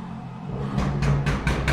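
A small motor scooter engine in the video game Friday the 13th: The Game sputters past nearby, rising into a rough, pulsing buzz with rhythmic bursts, straining as it goes by.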